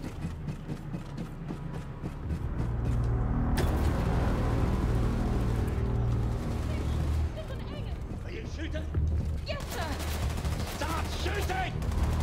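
Gunfire rattles through a shooting sequence in the first-person game Wolfenstein II: The New Colossus, with sustained bursts over rumbling in-game noise, close and fairly loud, mixed with effects and some voices.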